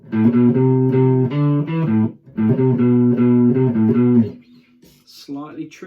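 An electric guitar plays the extended part B of a beginner exercise: two phrases of sustained, evenly paced picked notes separated by a brief pause, loud and close, then a few softer notes trail off.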